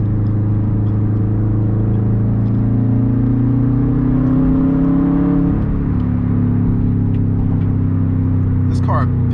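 A boosted car pulls hard from about 40 to 60 mph, a loud steady engine drone heard from inside the cabin that rises briefly in pitch.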